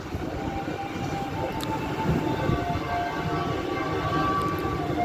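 Steady low rumble of the Indonesian KA Majapahit passenger train with stainless steel carriages rolling along the tracks, continuous and fairly loud with faint higher squeals above, no voices.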